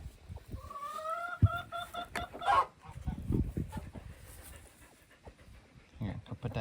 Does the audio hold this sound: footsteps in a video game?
no